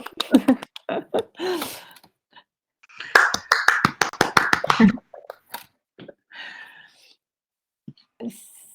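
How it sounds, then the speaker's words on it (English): Scattered claps and finger snaps from a handful of participants at a virtual exhibition opening, sparse close bursts separated by silences, with brief voices and breaths in between. "applause again."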